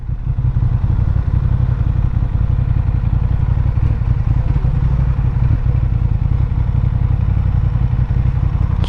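New Honda Hornet motorcycle being ridden, its engine a loud continuous close rumble with steady clattering mechanical texture and no voices over it.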